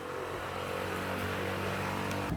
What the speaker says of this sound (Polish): bardzo dużo osób tutaj przyjeżdża właśnie rowerami, albo tak jak słychać, skuterami